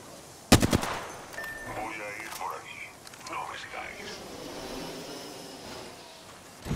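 Gunfire in the video game Apex Legends: a sharp burst of shots near the start, then softer game sounds and effects, with a player talking throughout.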